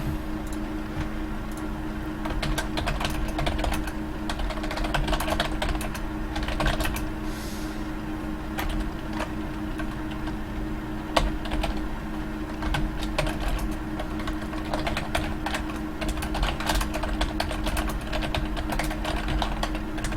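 Steady rapid typing on a computer keyboard, continuous clicking close by with a faint background hum and no talking.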